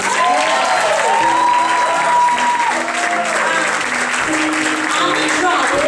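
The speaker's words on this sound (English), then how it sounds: "So give them a round of applause." A live audience applauds a band with loud, sustained clapping and a few cheers, while a voice speaks over it and sustained musical tones linger underneath.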